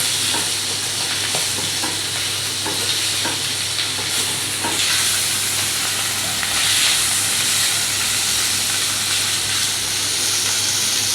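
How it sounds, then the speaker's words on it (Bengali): Chili powder and pepper powder are stirred through homemade fried rice frying in a pan, with a loud, unbroken hiss of sizzling oil and steam. Spatula scrapes tick through it early on, and no voices are heard. "তারপর নাড়াচাড়া হবে"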